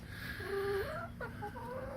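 A small bantam hen clucks close by with a few soft, low, drawn-out murmuring clucks over a faint steady background, no talking.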